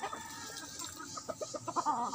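A red mayahin rooster at a derby gamefowl farm gives a run of short, rapid clucks, close and moderately loud, with faint background noise.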